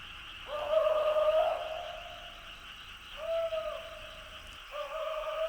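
An owl hoots in a forest at night, with two or three drawn-out, mellow calls at moderate distance against a steady background hum of insects.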